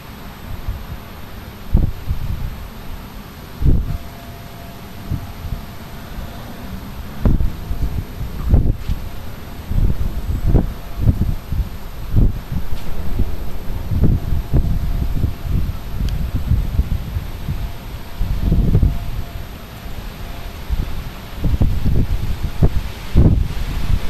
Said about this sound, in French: Il y a quelques pointes de vent, mais c'est pas non plus très fort.